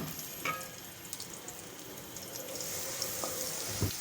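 Ginger frying in hot ghee in a pan gives a steady, fairly quiet sizzle, with a few faint clinks and small water-like sounds over it.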